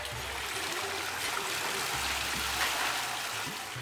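Water rushes and splashes steadily as silk yarn for saris is washed by hand in a traditional weaving workshop, a continuous close wash of sound with no clear talk.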